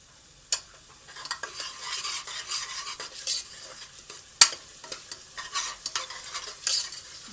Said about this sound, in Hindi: अब इन मिसालों को हम बहुत अच्छी तरह से भून लेंगे